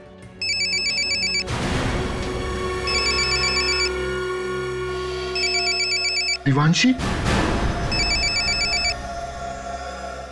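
A telephone rings in repeated electronic bursts, loud and close, in a Hindi TV crime drama scene, with a voice briefly speaking between rings over a tense music bed.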